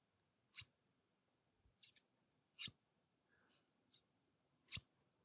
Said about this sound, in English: Does me holding a pair of scissors near your face frighten you?